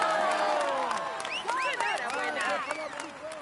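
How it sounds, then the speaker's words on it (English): A crowd at the Tour de France claps and cheers at once, with whistles and excited shouts rising over continuous applause. "Come on, let's applaud him once more."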